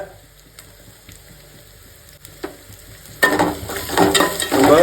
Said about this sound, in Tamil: வெங்காயத்தை சேர்த்து நல்லா வதக்கலாங்க